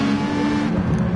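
Race car engines drone steadily at Interlagos in a PS4 racing video game, a loud continuous buzzing whine of several cars close together.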